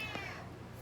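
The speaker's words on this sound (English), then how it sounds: "I'm going to start recording my cats going crazy, so you may hear them in the background." A house cat lets out one short meow in the background, moderately faint and slightly distant, with no talk over it.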